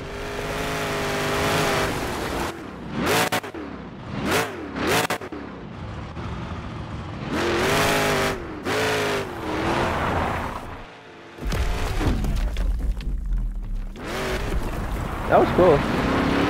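Monster truck engine from the Monster Jam Showdown video game, repeatedly revving and roaring in bursts with short drops between, loud and close with a racing, accelerating character.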